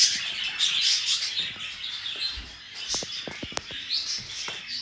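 Lovebirds chattering in a bird room, a steady mass of high, rapid chirps and squawks, fairly faint, with a few sharper calls poking out near the end.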